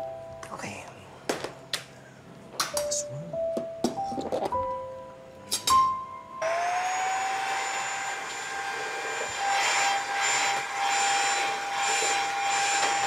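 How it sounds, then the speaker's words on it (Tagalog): A household vacuum cleaner starts up indoors and runs as a steady, loud whine, after some scattered clinks and brief talk. "Doon ka nga sa kabila mag-vacuum. Ayoko na maingay dito."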